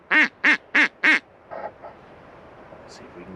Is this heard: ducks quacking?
yes